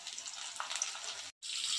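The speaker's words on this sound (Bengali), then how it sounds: "একইভাবে ফুলকপিগুলোও ভেজে নেব" Cauliflower pieces fry in hot oil, a continuous bright hiss and crackle that cuts out briefly before resuming, fairly faint and without talk.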